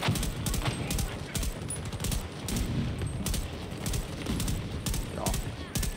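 A video game shootout rattles with steady, rapid bursts of gunfire, sharp repeated shots spaced through the whole stretch at a fairly close, even loudness, while a voice talks intermittently underneath.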